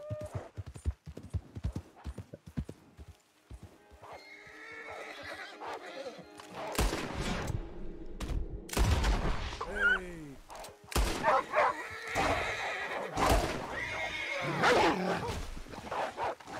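Hooves clip-clop in a rapid gallop while a horse whinnies loudly several times, with game music and effects layered over the action in Red Dead Redemption 2.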